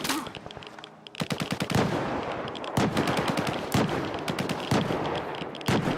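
Rapid bursts of gunfire in the first-person shooter Metro 2033 Redux, with sharp repeated shots in fast strings and brief pauses between volleys, loud and close throughout.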